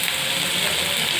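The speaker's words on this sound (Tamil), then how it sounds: "சீரகம் பொரிஞ்சதும் பொடிசாக கட் பண்ண வெங்காயம், அது கூடவே பூண்டு, இஞ்சி" Chopped onion, garlic and ginger frying in hot oil with cumin seeds for a brinjal curry, a loud, dense, continuous sizzle close up with no pauses.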